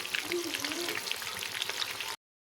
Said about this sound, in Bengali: এখনো হয়নি, আরেক পিঠটা ভেজে নেব।